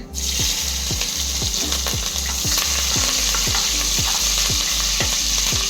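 Green chillies hit hot oil already holding pepper and cumin, giving a loud, steady sizzle with rhythmic stirring scrapes of a spoon against the pan throughout.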